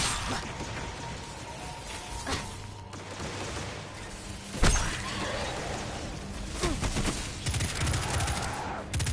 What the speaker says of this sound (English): you threw a grenade at me